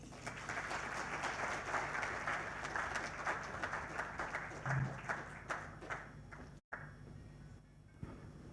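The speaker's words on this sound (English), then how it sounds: "another round of applause for the chair, MTN Uganda" Audience applause for the MTN Uganda chair at the company's listing on the Uganda Securities Exchange, a broad, steady round of clapping that fades after about six seconds, followed by a quiet room with a few stray claps.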